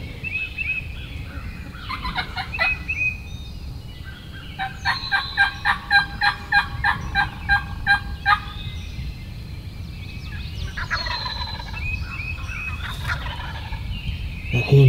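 Wild turkeys in the field: a tom's rapid rattling gobbles ring out a couple of times at moderate distance, mixed with hens' sharp yelps and calls over a low outdoor background.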